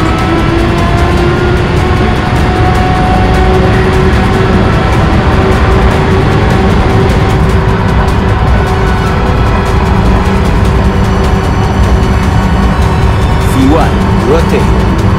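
Airliner jet engines roar at takeoff thrust from inside the cockpit, a loud, steady broadband rumble with sustained tonal whine, continuous throughout with crew voices over it.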